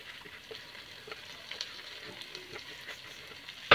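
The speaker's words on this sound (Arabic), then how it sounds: "هقلب البصل مع الرز مع البصل زي ما انت شايفه كده، هقلبه كويس قوي" Chopped onions and washed rice fry together in a home kitchen pan while being stirred, a soft steady sizzle with small scraping bumps and a sharper clatter right at the end.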